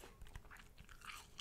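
Crunchy organic apple bitten and chewed close to the microphone, soft repeated crisp crunches and wet chewing, quiet and alone.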